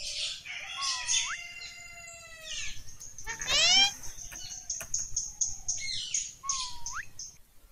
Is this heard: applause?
no